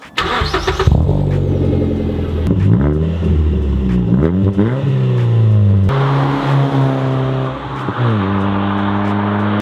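A Mazda 3 with a muffler delete starts up and revs repeatedly, its exhaust rasping up through several sharp climbs and drops before settling into a louder, raspier idle, close and loud with no talk.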